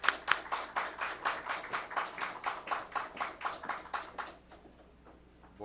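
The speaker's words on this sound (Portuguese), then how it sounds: "Un aplauso para Douglas" A small audience claps in welcome for an architect speaking on bamboo, a steady rhythmic run of about fifteen distinct, fairly close claps that stops abruptly, leaving near silence.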